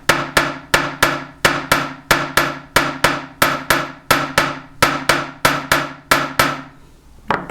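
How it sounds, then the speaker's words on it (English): A chasing hammer flattens an 18 gauge wire spiral charm with about seventeen sharp, ringing metallic blows in a steady, even rhythm, close and loud, ending in a brief pause. "So I'm going to hold it off the side here and hammer it flat."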